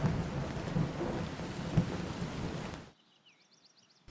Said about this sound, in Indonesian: petir, dan hujan.